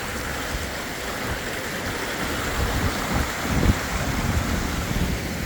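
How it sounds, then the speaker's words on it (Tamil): Floodwater rushes and churns in swirling currents during heavy rain in Jaffna, a dense, continuous roar of turbulent water that swells slightly midway, with no voices. "கொந்தளிச்சு தண்ணி போகுது, சுழிச்சு கொண்டு போகுது."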